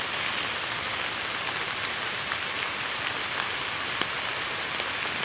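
Rain falling steadily on a bean-picking farm, a dense even hiss of drops striking surfaces nearby, with occasional sharper taps and no voices.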